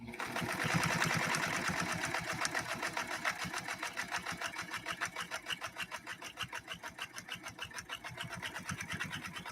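A Necchi Lelia 512 sewing machine stitches a zigzag in a fast, even rhythmic chatter, close and steady throughout with a slight mechanical whir beneath each stroke.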